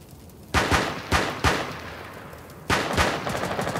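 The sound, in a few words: pistol gunfire in Rainbow Six Siege video game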